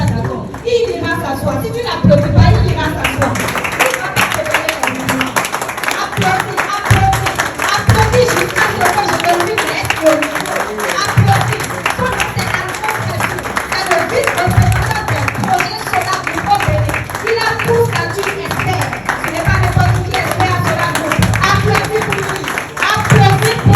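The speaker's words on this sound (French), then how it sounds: "Applaudis pour notre leader." An audience at a SolarGroup project presentation in Porto-Novo claps for its leader, with dense, sustained applause from a crowd lasting over twenty seconds while voices carry through it.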